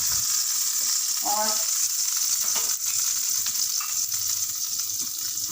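Butter melts in a hot pan of chicken and vegetables, giving a steady, soft sizzle and crackle with a faint clink near the start and one brief spoken word.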